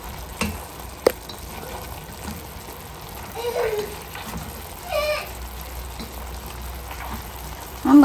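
Chicken browning in a pot for a Brazilian-style home dish, a low steady sizzle with a few scraping stirs of a utensil, fairly quiet, with a child's brief vocal sounds and faint background noise.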